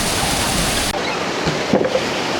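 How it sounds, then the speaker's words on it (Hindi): Water rushes steadily past a wooden-paddled water mill wheel in a Kashmir valley, a loud continuous wash that abruptly drops to a quieter flow with a few soft knocks. "वो पीछे से पानी आ रहा है और ये पानी, ये लकड़ी वाला पंखा लगा हुआ है"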